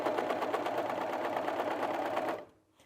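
An overlocker stitches a cushion seam in one steady, fast burst of rapid mechanical chatter that lasts about two seconds before it stops sharply, leaving near silence.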